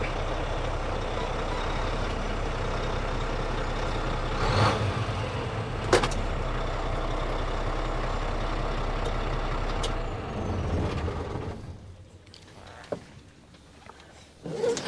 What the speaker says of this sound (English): so I came out here to get my truck running